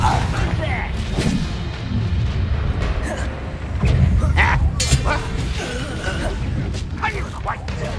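Confringo fire spell explosions in Hogwarts Legacy, a run of booming impacts and sharp bursts during busy combat, with voices and battle noise throughout.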